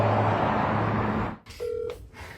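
Telephone dialing tones while placing calls to state government offices: a steady tone gives way after a brief gap to a short two-pitch touch-tone beep, fairly loud and alone with no voices.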